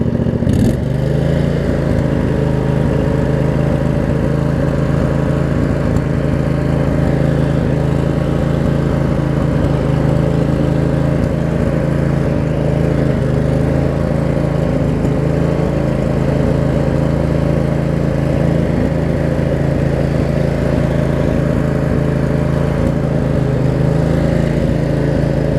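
A Craftsman riding mower with a Briggs & Stratton V-twin engine idles steadily and close up for the whole stretch, a low, even rumble with no voices.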